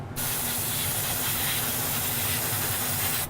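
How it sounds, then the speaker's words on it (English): An airbrush sprays lavender colour onto chocolates with a steady, close, loud hiss that starts abruptly and continues evenly without pause, no talking over it. "this is our lavender that I'm airbrushing"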